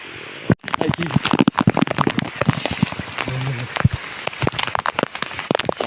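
Heavy monsoon downpour on a farm in Konkan with bullocks nearby, a dense patter and crackle of rain running throughout while someone talks over it.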